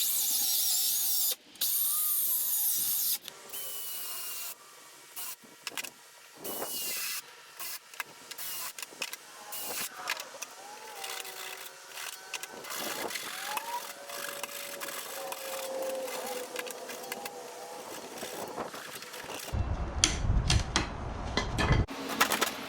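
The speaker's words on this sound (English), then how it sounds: "I'll be doing a plunge cut so that I can hang a towel in the middle." Router plunge-cutting a one-inch notch in wood for an outdoor kitchen unit, a loud intermittent high whine in repeated bursts of cutting with knocks and handling noise between, ending in a louder rough burst.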